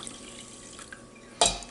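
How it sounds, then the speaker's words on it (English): Water poured into a mixing bowl of spices and apple cider vinegar for a Carolina-style pork recipe, a brief close splash and trickle near the end after quiet kitchen ambience. "add in our water"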